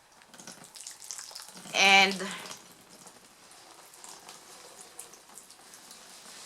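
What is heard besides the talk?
watering newly planted bean seeds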